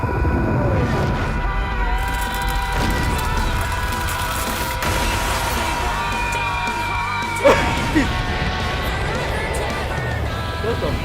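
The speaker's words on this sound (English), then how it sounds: "That's a powerful scream." A loud, powerful scream in a Scooby-Doo versus Courage the Cowardly Dog cartoon battle, with shouting, whooping and running sounds mixed under and over people's speech.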